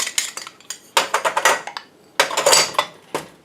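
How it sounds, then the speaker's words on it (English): Metal cookware clanks and scrapes in several bursts, a frying pan set back down and shifted on a stovetop burner, close by with no talking. "I'm going to reuse that same pan, and we're going to get our meat ready. Back on the burner."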